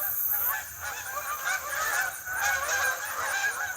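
A pack of geese honks continuously in the mountains in early fall, many overlapping calls layered into a loud, dense chorus with no speech.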